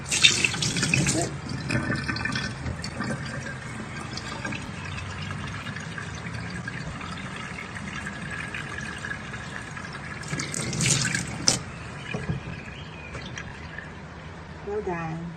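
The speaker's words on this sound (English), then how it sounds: "The water runs fast." In a kitchen, water from the tap rushes steadily down a newly unclogged sink with a continuous splashing drain noise, and a person talks over it.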